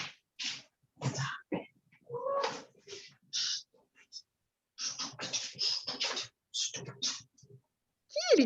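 A house cat meows in a room, short calls scattered among people chatting nearby; the voices dominate, and the cat sounds are close but brief.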